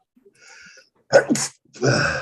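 A single sharp sneeze, an audible intake followed by a loud burst, then a short stretch of noisy exhalation or rustle right after.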